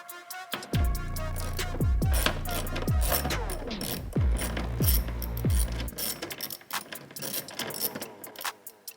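A ratchet backs out the 8 mm bolt holding a door speaker in a 2022 Honda Civic Sport, rapid close clicking in several bursts, then scraping and handling noises.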